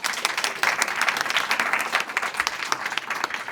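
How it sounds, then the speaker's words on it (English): Audience applause for the moderator at a tech talk event: dense, steady clapping from a room full of people, close and sustained throughout. "Also, a round of applause to our moderator,"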